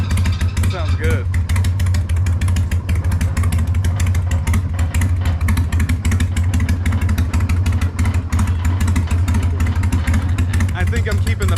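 Harley Sportster 1250 motorcycle engine running with its exhaust baffles removed, a loud, close, throbbing rumble that stays steady throughout, with people talking over it.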